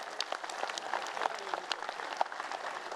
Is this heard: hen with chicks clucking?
no